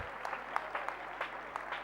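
A school annual day audience keeps up faint, distant applause, with scattered individual claps rising out of a steady low wash of crowd clapping.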